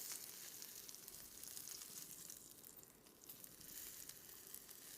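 Fat edge of an Aldi wagyu steak searing in a hot pan, a steady dense sizzle and crackle held close and loud throughout with no talk.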